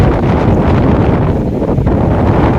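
Loud, constant cool wind buffeting the microphone on a hilltop at Shihori Mata temple, Sihor, a dense low roar for a few seconds with no voices, cutting off abruptly.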